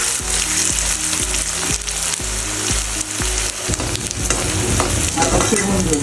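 Onions browning with tomato in a hot pan, a loud steady sizzle with stirring scrapes, under a looping rhythmic music track.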